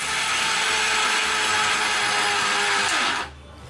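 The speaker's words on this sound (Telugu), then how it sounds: "మూత పెట్టి బాగా గ్రైండ్ చేసుకోవాలి." An electric mixer grinder grinds red chili powder and turmeric for a masala with its lid on, a loud close whirring drone that runs continuously and then cuts off abruptly near the end.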